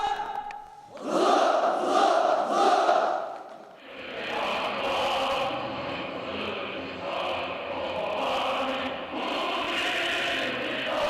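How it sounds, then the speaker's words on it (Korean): Roaring crowd of young people shouting slogans in unison at a mass rally, first three loud rhythmic chanted bursts, then a sustained swelling roar of many voices. "멸족의 구호들을 외치는 청년들의 노후한 함성이 온 나라 방방곡곡에서 울려 퍼진다"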